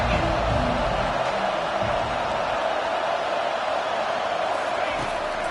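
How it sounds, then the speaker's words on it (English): Crowd noise fills a stadium in an American football video game, a steady, loud roar with no pauses that holds evenly throughout. "This crowd trying to make life miserable for this offense."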